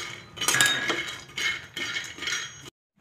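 Peanuts dry-roast in a pan over a medium flame, giving bright rattling, clinking scrapes in three close stirring bursts before stopping abruptly.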